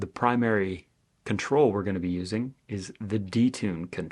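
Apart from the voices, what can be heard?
None of the usual background noises is heard.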